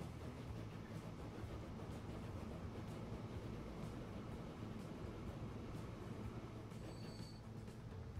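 A train rolls through the video game Transport Fever 2 as a faint, steady rumble with rail noise and a brief high squeal near the end, heard alone without talk.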